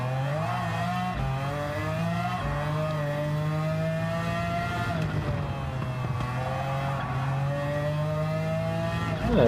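Sustained engine note of a BMW McLaren F1 GTR long-tail race car in Gran Turismo 7, droning loudly with rising and falling pitch as it accelerates and shifts through gears over several laps, with no talk.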